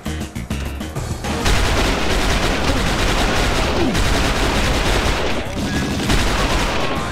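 Heavy, sustained gunfire in the shooter game XIII aboard the USS Patriot: a dense, loud barrage of rapid shots that runs almost without a break after a few opening bangs.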